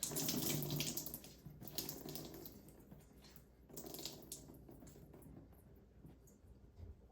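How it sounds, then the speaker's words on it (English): Water trickles and splashes as a wet Swedish dish cloth is wrung out, a steady watery rush that swells, fades, then returns in a second squeeze. "And you can squeeze this out."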